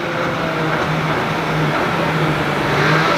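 An MV Agusta motorcycle engine runs on a dyno during factory testing, a loud, steady mechanical roar with shifts made by quick shifter, filling the whole stretch without pause.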